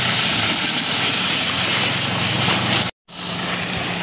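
A sprayer applies foliar fertilizer to calamansi trees at night, a loud, steady hissing spray that runs continuously, cuts out abruptly for a moment, then resumes.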